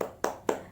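Children in a third-grade primary school lesson clap out the tepuk semangat cheer: two crisp, evenly spaced hand claps, close and distinct, with no talking over them.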